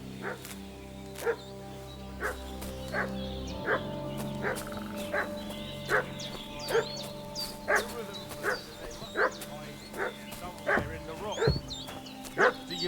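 A dog in Kingdom Come: Deliverance II barks over and over at roughly one-second intervals, loud and fairly close, with yips growing more agitated toward the end over a low outdoor ambience.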